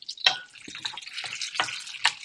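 Onions caramelizing in a frying pan for soft green beans, heard close as intermittent crackling sizzles and stirring hisses over near silence.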